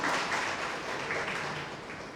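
Applause from an audience at a Gujarati poetry festival honoring the project conveners, a dense steady patter of many hands clapping at moderate distance, slowly fading over a couple of seconds with no voices over it.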